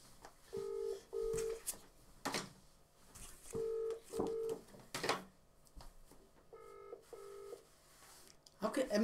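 A telephone is dialed for a call, producing a series of short touch-tone beeps in small groups. Clicks and pauses come between the groups, and the sound is fairly quiet and close.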